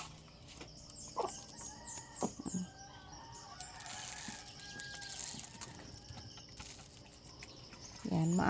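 Chickens cluck and squawk intermittently nearby, with a rooster's crow rising through the background and a louder squawk at the end.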